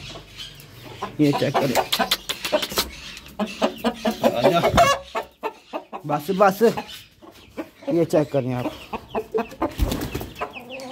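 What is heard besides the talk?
rooster clucking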